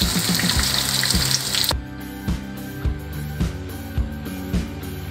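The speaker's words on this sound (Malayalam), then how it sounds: "അപ്പം നമ്മുടെ മീന് ഇത്രയും ഫ്രൈ ആയാൽ മതി." Fish fries in hot oil for fish biryani, a loud steady hiss for the first couple of seconds that then cuts off, leaving background music playing alone.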